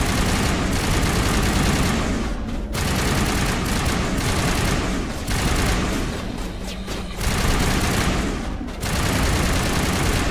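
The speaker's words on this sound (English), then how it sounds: "Stop shooting me." Heavy sustained gunfire in Mass Effect during a colony rescue battle on Feros, dense loud volleys rattling almost continuously with a few brief pauses between bursts.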